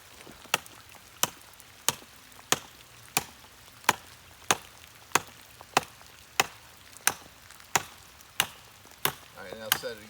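Wooden stake being chopped in half outdoors for a beaver trap: about fourteen sharp, evenly spaced chops in a steady rhythm, close and crisp, with no talking.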